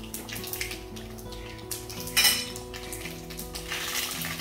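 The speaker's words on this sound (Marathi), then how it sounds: "आता मी ही फोडणी या सांबारवर घालते." Hot tempering for sambar, a tadka, is poured in and sizzles in bursts, with a sharp hiss at its loudest in the middle, amid clinks of utensils and pans.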